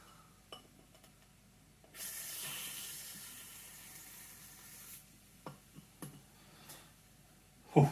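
Cherry-flavoured carbonated seltzer hisses and fizzes steadily as it is bottled off a counter-pressure beer line and foams over, a broad sustained hiss swelling midway, with scattered clinks and a sharper knock near the end.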